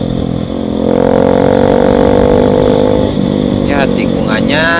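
A motorcycle climbs a winding mountain road on the green slopes of Soppeng regency, Indonesia. Its engine drones loud and steady as it accelerates, with wind rush throughout and a rider's voice talking over it.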